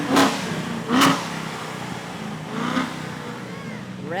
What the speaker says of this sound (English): Revving those engines.